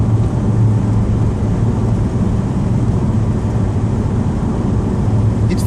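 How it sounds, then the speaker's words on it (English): A Mitsubishi Pajero Junior's small engine drones steadily while driving, a continuous low buzzing hum with road rumble and no talk. "I can hear that engine buzzing away."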